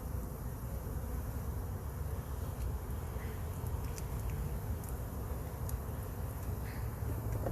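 Honey bees buzzing around an opened nuc hive while a honey super is added, a faint continuous hum with occasional closer wingbeats passing by.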